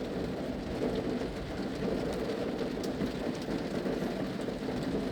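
Steady rain pours during the rainy season in southern Laos, a dense, even hiss of drops on surfaces with a low rumbling undertone, continuous and moderately close with no voices.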